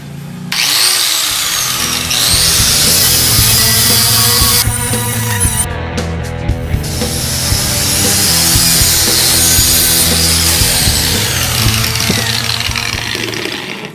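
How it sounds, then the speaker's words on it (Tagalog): An electric grinder strips paint and material from a mountain bike frame, a loud continuous abrasive whine and rasp with brief pauses and shifts in pitch as it bites the metal. "So gumamit na akong grinder para madali lang yung pagtanggal natin."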